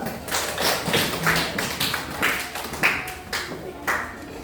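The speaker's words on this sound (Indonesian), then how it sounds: "Tepuk tangan dulu." Schoolchildren in a classroom clap their hands during a math lesson, a ragged series of claps at an uneven rhythm, fairly close, with some chatter mixed in.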